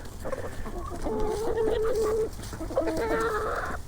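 Chickens on a homestead cluck and make drawn-out, warbling calls nearby, with a second burst of vocalizing after a brief pause, over a soft background hum.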